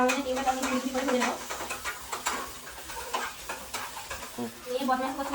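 Egg frying in a wok for chow mein: a steady sizzle with scraping stirs runs throughout, mixed with a voice or tonal background sound.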